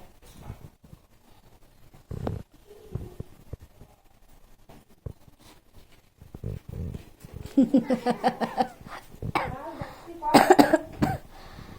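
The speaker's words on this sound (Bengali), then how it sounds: "ঠান্ডায় মা মেয়ে দুজনেরই কাশি হচ্ছে" Several coughs from a mother and young daughter with colds, scattered through the recording, some sharp and close, mixed with throat sounds and a voice in places.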